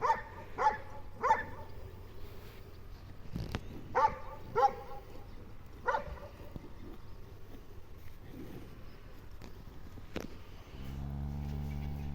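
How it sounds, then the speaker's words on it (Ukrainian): Several dogs bark in short bursts, some yips and whimpers mixed in, at moderate distance outdoors; a steady low engine hum rises near the end. "Ось ну, собацюри біжать."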